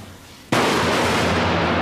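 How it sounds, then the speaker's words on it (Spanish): A gunshot from the 1989 film Elephant cuts sharply in after a quiet moment, and its loud, dense blast rings on without a break. "Simplemente dispara acabando con la vida del otro hombre"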